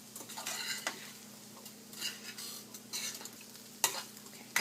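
A spoon stirs boiled chickpeas (chana) and onions in a pan over a faint sizzle, with scraping strokes and occasional metallic clinks against the pan, close by.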